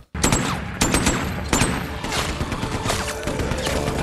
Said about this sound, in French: Oh, elle va prendre la mitrailleuse.